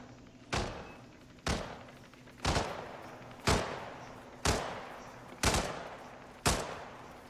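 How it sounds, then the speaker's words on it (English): Gunshots ring out in the Colorado level of Hitman, seven evenly spaced single reports about one second apart, each a sharp crack with a short decaying tail, fairly distant-sounding over a faint steady hum. "That shooting is really aggravating"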